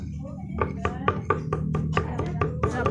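Boiled jackfruit being chopped on a board, a run of about a dozen sharp, fairly regular knife strikes, close and clear under a low background hum.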